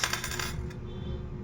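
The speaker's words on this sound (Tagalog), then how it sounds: "Yan, ganito yung tunog ng ginto." A couple of quick, bright metallic clinks of a small 18-karat gold ring landing and settling on a hard surface, brief and light over faint hiss.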